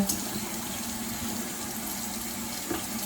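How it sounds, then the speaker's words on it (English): A shoe sole held under a running tap to rinse off soap residue, a steady close hiss of flowing water splashing into a sink, with no talking. "I just kind of hold it over the water and just get this bottom part that I've gotten the magic eraser on to kind of rinse off that soap residue"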